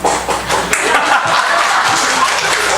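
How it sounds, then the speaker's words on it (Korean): A church congregation claps together during a service, a loud dense burst of hands that stays even and full throughout. "모든 교우분들께 박수를 보내드립니다"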